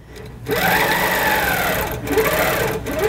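A computerized sewing machine in stitch regulation mode keeps its needle turning slowly, a steady close mechanical whir and hum that runs almost unbroken for about three seconds, with brief dips, and no talk.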